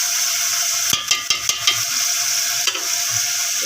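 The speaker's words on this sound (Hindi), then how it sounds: "इसकी अब थोड़ी देर तक भुनाई करेंगे ताकि अच्छे तरीके से टमाटर गल जाए।" Tomatoes with salt and mixed spice sizzle steadily in a pan while being sautéed, with a few sharp scrapes and knocks of a stirring spoon.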